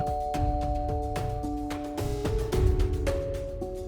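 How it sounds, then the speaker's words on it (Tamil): A two-tone electronic door chime rings out, its sustained bell-like notes stepping through several pitches over a steady background. "இன்னொரு ஆச்சரியம் அவ வீட்டு காலிங் பெல்ல தட்டுச்சு"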